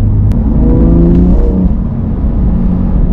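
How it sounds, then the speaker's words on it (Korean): A loud BMW M2 Competition engine revving hard, a steady throaty roar with rising and falling pitch, close and continuous. "와, 이 조그만 데서 엔진 소리가 이렇게 큰가요?"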